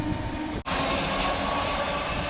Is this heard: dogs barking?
no